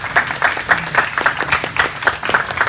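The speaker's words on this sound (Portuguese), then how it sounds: "eu peço aplausos para vocês, né?" Applause from a school audience at a lecture at Colégio Estadual D. Pedro I for students, brisk, even clapping from a modest crowd, close and fairly loud for a few seconds with no talk over it.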